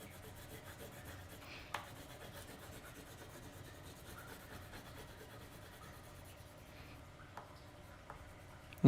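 Oil pastels rubbed across paper in a drawing lesson, a soft continuous scraping texture at close range with a few small taps, and a sharper knock right at the end.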